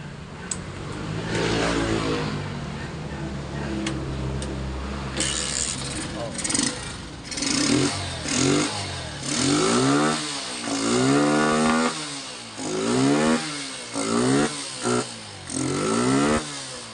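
Honda TMX125 motorcycle with a fouled, blackened spark plug and a clogged air cleaner: the engine idles unevenly, then revs in repeated rising and falling bursts nearby, with a voice heard briefly early on.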